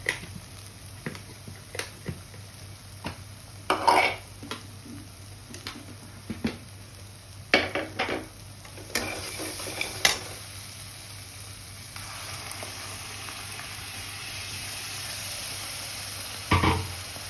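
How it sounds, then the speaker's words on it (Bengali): Ground spinach paste for palak paneer is stirred in a pan, a faint low sizzle under intermittent clicks and taps of a spoon against the pan, quiet and close. "এবার এই পালং শাকটা দিয়েও আমি আরো কিছুক্ষণ নেড়ে নেব"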